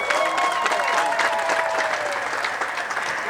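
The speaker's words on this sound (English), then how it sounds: "give God a very loud clap" A large crowd at a political rally claps loudly and continuously, a thick unbroken roar of applause with faint voices underneath.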